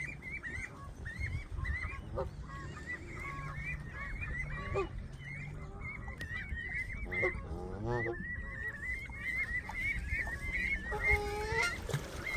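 Geese on a lake honk repeatedly and agitatedly while a swan attacks them, with overlapping calls over steady outdoor background noise.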